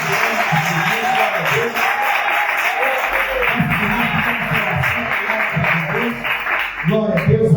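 Church congregation at a Tuesday evening intercession service clapping, a continuous bed of applause with a voice speaking over it throughout.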